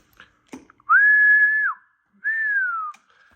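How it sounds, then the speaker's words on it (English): Two sustained whistles, each about a second long, blown into the microphone of a Henry Radio ham transmitter for a single-sideband test. They sound loud and steady with a short gap between, and the second one slides slightly downward. "So give it a whistle and see if it'll go."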